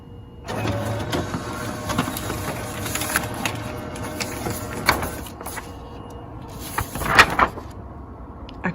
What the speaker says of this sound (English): I'm going to stick this into the drawer of my laser printer